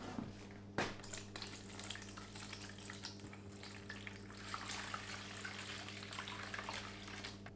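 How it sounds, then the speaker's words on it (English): A steady stream of coffee-based caffenol paper developer pours and splashes continuously into a shallow darkroom tray, close and even throughout. "I'm going to pour it into my tray."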